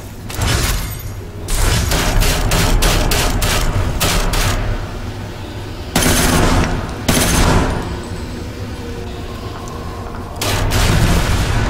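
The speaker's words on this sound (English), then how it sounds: "This MG4 is a lot better with mag rounds." Bursts of MG4 machine gun fire in a video game firefight: several loud rapid-fire strings and sharp reports spread across the stretch, separated by brief lulls.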